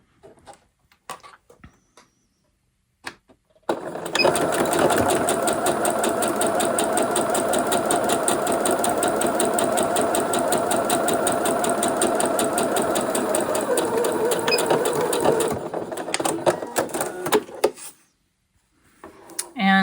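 A sewing machine stitching fabric with the needle set to the far right position, a fast steady mechanical whir and rapid needle clatter running loud and close for about twelve seconds, framed by quieter handling clicks before and after.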